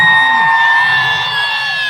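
A crowd at a nadan pattu folk song event at Iravukad temple lets out one loud, sustained collective hoot that holds steady for about two seconds and then trails off at the end.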